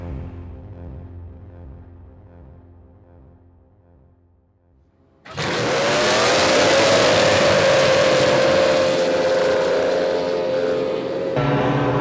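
Quiet low rumble, then outboard racing boat engines abruptly roar to life together at a modified Le Mans start, a loud sustained drone with a rising whine, continuing strongly to the end.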